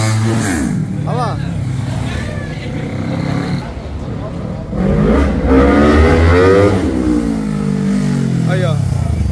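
Modified motorcycles rev and ride in Paraguay, engines rising and falling in loud, close pitch sweeps with throttle blips, while people talk over the engine noise.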